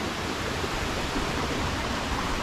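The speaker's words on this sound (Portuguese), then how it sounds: "e lá tem mais uma cachoeirinha também" Small waterfall at Cachoeira da Janela in Santo Amaro da Imperatriz, a constant close rushing wash of falling water, loud and even throughout with no voices over it.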